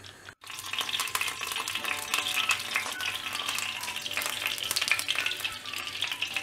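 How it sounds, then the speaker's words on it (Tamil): Fish sizzles steadily on a banana leaf in a pan, Kerala meen pollichathu style, with a dense, even crackle of frying that carries on without pause and with no talking. "இப்போ இந்த வாழை இலையில் வந்து நல்ல மீனை ஃப்ரை பண்ணியாச்சு."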